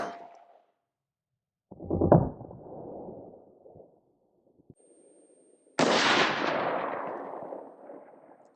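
A Palmetto State Armory GF3 AK rifle with a 16-inch barrel fires 7.62x39 steel-jacket rounds at body armor, giving two sharp, loud outdoor shots, the second a harsher blast with a long fading echo.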